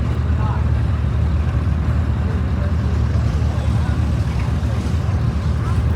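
A vintage oil pull tractor runs in a parade, a continuous low, throbbing engine drone that stays loud and steady throughout, with faint crowd and wind noise behind it.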